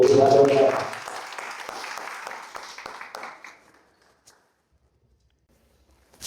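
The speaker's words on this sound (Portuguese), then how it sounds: "Uma salva de palmas para o nosso amigo aí." An audience at an automotive detailing event gives a short round of applause, close and loud at first, then thinning into scattered claps and fading to near silence within a few seconds.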